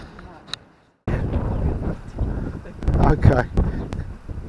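Gusty coastal wind buffeting the microphone near a pier, rough and loud after a brief quiet start, with a voice speaking briefly.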